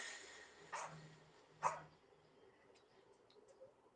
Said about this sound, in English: Yeah, she barks so much.